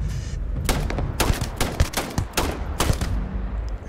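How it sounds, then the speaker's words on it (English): Rapid bursts of gunfire in the video game Starfield, several loud volleys in quick succession with short pauses between them. "Here's some more gunfire."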